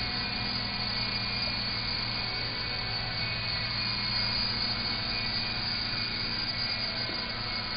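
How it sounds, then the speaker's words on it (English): A small remote-controlled toy helicopter hovering and climbing, giving a constant loud whirring drone of rotor and motor that holds steady throughout. "As you can see, I'm moving up the joystick, the helicopter goes fly higher."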